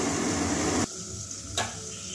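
Boiled potatoes frying in a pan for a Bengali duck egg curry with cauliflower and peas, a steady close sizzle that cuts out abruptly, then resumes more quietly with a brief stirring scrape.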